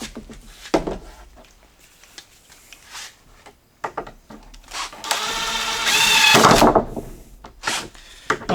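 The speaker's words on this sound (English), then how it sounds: "Now I just need to drive in these screws." A screw gun whirs in short bursts, then in one longer, louder run as it drives screws through a tapered board clamped to plywood, with wooden knocks and handling clatter around it.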